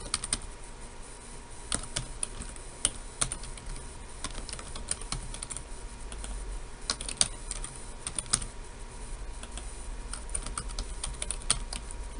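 Steady typing on a computer keyboard while a database connection is configured, with quick, irregular keystroke clicks running continuously and fairly close, with no talk.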